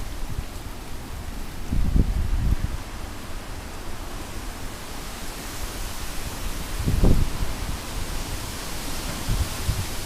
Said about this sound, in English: these are some serious strong gusts